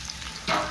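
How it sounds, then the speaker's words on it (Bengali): Onions fry in a pan with a soft steady sizzle that swells briefly into a louder hiss, as if stirred, with no voices. "পেঁয়াজটা একটু ভাজা ভাজা হবে"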